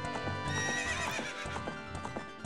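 Horse in the Zelda: Ocarina of Time video game, ridden for horseback archery in Gerudo Valley, neighs and whinnies loudly over steady clip-clopping hooves, a close, continuous game sound effect.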